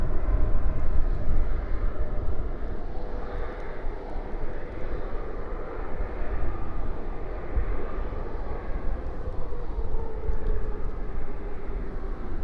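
Jet airliner rolling for takeoff at night at Dallas/Fort Worth International Airport, a steady broad roar of engines that holds for the whole stretch, heard from a distance with no voices.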